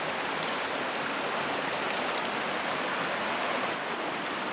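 A shallow river stream with low water flows steadily through a forest, giving a continuous, even rush of running water close by with no voices.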